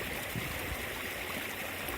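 A rain-swollen creek runs in a steady, even rush of flowing water, constant and moderately close, with no other sounds.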